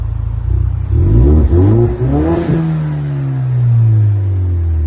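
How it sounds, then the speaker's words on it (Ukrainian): A 2014 Ford Mustang 2.3 EcoBoost engine revs sharply a couple of times close by, its exhaust roaring, then drops back to a steady, throaty idle. "Давайте послухаємо вихлоп."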